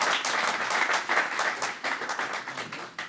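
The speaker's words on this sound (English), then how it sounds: "Ladies and gentlemen, our applause to our speakers." An audience applauds speakers at a Quaid-e-Azam Jinnah birthday celebration, a steady patter of many hands clapping at moderate loudness that eases slightly near the end.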